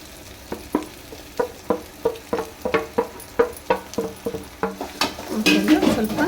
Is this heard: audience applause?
no